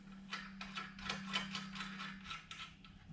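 A hand ratchet clicks in a quick, steady series of pawl ticks as a nut is run back onto the lower control arm of a GMC Sierra 2500HD. The ticking is close but faint, over a low hum, with no talk.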